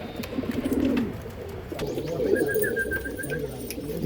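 High-flying pigeons coo in soft, repeated throaty phrases close by, with a brief trilling call partway through and a light ambient background, no talking.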